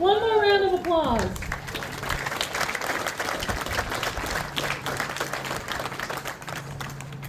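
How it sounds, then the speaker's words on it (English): An audience at a Dodge City Cowboy Band Salute the Troops concert applauds, with dense steady clapping continuing after a brief voice at the start. "One more round of applause."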